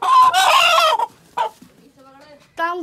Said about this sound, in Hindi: हमने अपने मिनी जू के अंदर आने वाला आपको मुर्गा तो दिखा दिया